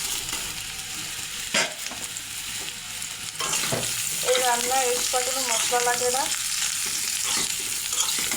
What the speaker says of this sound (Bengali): ফোড়ন ভাজা হয়ে গেছে, ভাপানো শালগম।